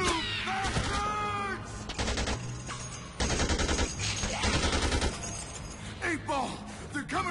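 Rapid bursts of gunfire rattle through a Dead Rising 2 game scene, dense and loud in several volleys, with shouting voices and glass-like crashes mixed in.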